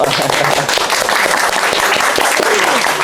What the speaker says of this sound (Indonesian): Mungkin bisa sedikit tepuk tangan Bapak Ibu.